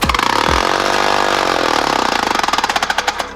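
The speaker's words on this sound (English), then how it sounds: "I'm gonna do that test again, just with less time of a delay." A small 3D-printed four-stroke air engine revs hard at high RPM, a loud, buzzing mechanical whine with rapid steady pulses that stutter into distinct chugs near the end, close and alone.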